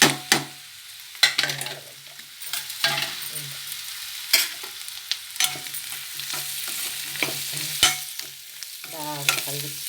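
A spoon stirring potato fry in a pan, sharp intermittent scrapes and clinks over a constant low sizzle of frying, close and fairly loud, with no talking.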